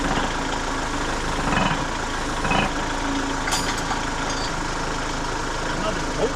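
An antique Caterpillar RD4 tractor engine runs steadily at a low rumbling idle throughout, with faint clanks and knocks over it and a voice speaking now and then nearby.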